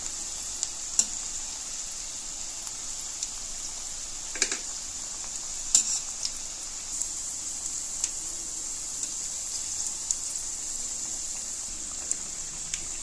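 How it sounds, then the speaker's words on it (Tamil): Banana flower vadai deep fry in hot oil over a medium flame, giving a steady high hiss of sizzling with occasional soft clicks and pops, close up and continuous. "நல்லா கோல்டன் கலர் வர்றது வரைக்கும் பொரிச்சு எடுத்துக்குவோம்."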